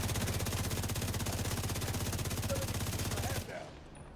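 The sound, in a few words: gunfire shooting at a shield, from a video game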